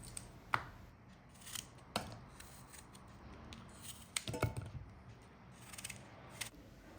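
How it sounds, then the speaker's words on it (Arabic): Knife cutting apples into small pieces: sparse, quiet chopping clicks and taps against a board, irregular and close, with soft handling noises between cuts. "ناخذ كسرونه ونقطع فيها التفاحات اللي عندي قطع صغيره باش دغيا يطيبوا لينا"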